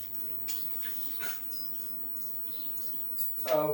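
A dog whimpers in a home workshop while a Honda CRF300L motorcycle's rear shock is being fitted, a few soft whines followed by a louder, higher cry at the end over quiet room ambience.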